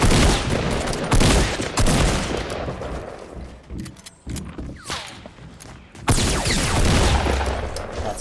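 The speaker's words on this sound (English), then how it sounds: "I have a feeling they're shooting me down" Gunfire rattles through a solo-versus-squad video game fight, dense loud bursts of automatic fire with a lull in the middle before heavy shooting resumes.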